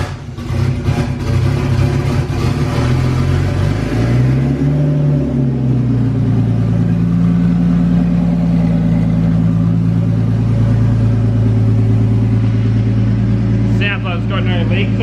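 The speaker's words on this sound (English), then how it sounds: "this is first start since we've done the front mount intercooler" An R33 Skyline with a newly fitted front-mount intercooler and no exhaust cranks and catches, then revs loudly several times before settling into a rough, rumbling idle; a brief voice appears near the end.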